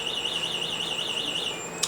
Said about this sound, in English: And every once in a while the alarms go off.